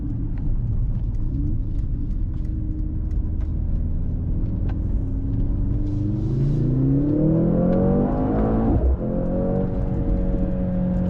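A 2024 Mercedes-AMG C63 S's 2-litre engine rumbles and climbs in pitch as it accelerates, a loud, smooth rising drone heard from inside the vehicle.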